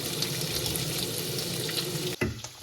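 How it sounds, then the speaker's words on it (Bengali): Cubes of paneer frying in hot oil in a kadai, a dense steady crackling sizzle close by that cuts off abruptly near the end, leaving faint scattered pops. "পনিরগুলো কেটে এখন কিউব কিউব করে কেটে তেলের মধ্যে ভেজে নিচ্ছি"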